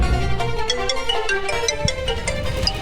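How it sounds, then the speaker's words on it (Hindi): A phone ringtone plays loudly, a repeating electronic melody of bright chiming notes, with no one speaking. "तुम्हारा फोन बज रहा है"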